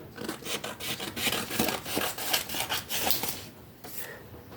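Scissors cutting a page out of a magazine for a collage, a close run of dry snipping and paper rasps in uneven bursts with rustling between, steady and fairly loud with no talking.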